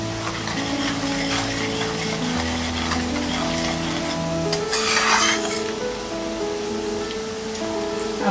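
Poha onions being stirred in a pan with turmeric and rock salt: steady scraping and sizzling, close and continuous, over a constant hum of background music.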